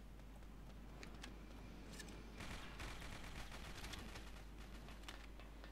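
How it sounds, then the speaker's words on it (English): Gold rifle fire in the shooter game MicroVolts comes as rapid, faint popping shots, sparse at first and then a dense, sustained burst of gunfire. "someone shot me from behind with a gold rifle"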